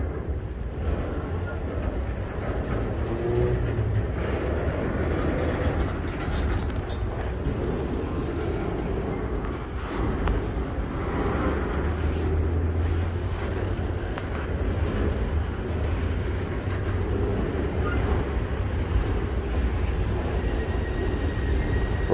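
A BNSF freight train in the newer red paint rolls past with a steady, loud rumble of rail cars and wheels, and brief wheel squeals come through. The noise stays continuous throughout, with faint background voices.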